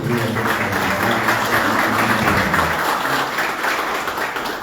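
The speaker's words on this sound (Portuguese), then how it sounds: "Eu quero lhe pedir uma salva de palmas para a sua grandeza" Audience applause in a meeting hall at a year-end review session of a Brazilian industry chamber, steady clapping filling the room for several seconds with a faint murmur beneath.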